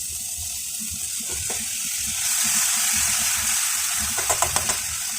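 Food hisses in hot oil with salt added, a soft bubbling at first that swells into a louder, steady sizzle, with a few sharp crackles near the end.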